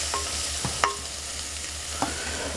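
Mushrooms browning in a hot frying pan give a soft steady sizzle, broken by a few brief scraping stirs of a utensil against the pan, close and fairly quiet, with no talking.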